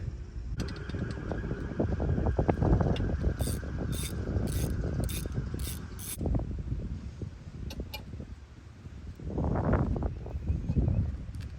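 Socket wrench with an extension ratcheting on a bolt deep in the engine bay of a 2006-2012 Toyota RAV4, a close run of rapid metallic clicks in bursts with short pauses and occasional knocks.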